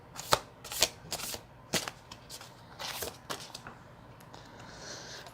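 Tarot cards being shuffled up close, several sharp riffling bursts early on, then softer sliding and rustling trailing off, fairly quiet, without speech.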